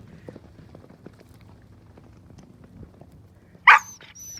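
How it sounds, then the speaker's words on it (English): A dog on a leash gives a single sharp, loud bark near the end, over a low rumble of outdoor background noise in a field with a herd of horses. "Excuse my dog, she's very upset."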